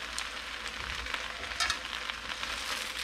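Water spinach stir-fries in cooking oil in a pan, giving a steady close sizzle with crackling spits and a brief louder flare midway.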